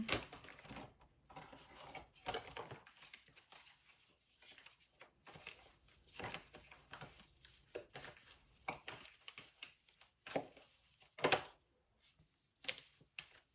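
A small stack of oracle cards is shuffled close up in irregular soft bursts of riffling and tapping, separated by brief quiet pauses.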